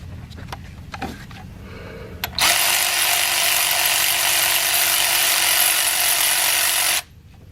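A breaker bar works on a head bolt of a 6.7L Cummins diesel: a few faint clicks and knocks, then a loud continuous grinding mechanical whir with a steady tone for about five seconds before stopping abruptly.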